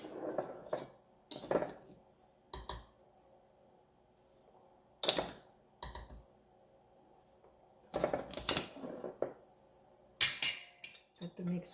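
A utensil knocks and scrapes against a bowl while yeast, sugar and other bread dough ingredients are mixed, coming in several short separated bursts with quiet gaps between.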